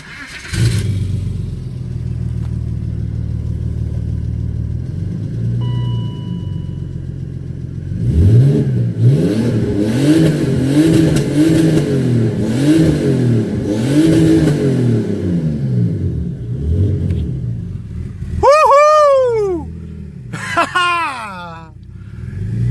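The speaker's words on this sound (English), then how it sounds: "The car is freaking working with the turbo." Turbocharged BMW E39 with an M54 engine idling loudly, then revving repeatedly in rising and falling sweeps, finishing with a couple of sharp high blips; voices talk over parts of it.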